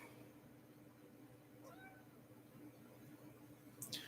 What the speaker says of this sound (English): Will you stop meowing?